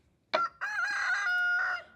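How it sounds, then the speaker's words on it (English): A mean rooster on a garden homestead crows once, close and loud: a sharp opening note, a brief break, then a long sustained call that fades at the end, with nothing else around it. "We also have a rooster, a mean rooster"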